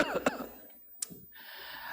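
A preacher imitates a woman coughing, giving a short burst of a couple of quick, close, voiced coughs followed by breathy throat noise, alone.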